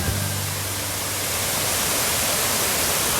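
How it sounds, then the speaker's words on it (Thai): Water pours at the Sapan waterfall in Khun Nan as a loud, steady roar that fills the whole stretch without a break. A brief low voice may sound at the very start. "น้ำตกสปันนะครับ"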